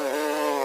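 A steady, close insect buzz with a bright whining hum, droning continuously without pause, no voices.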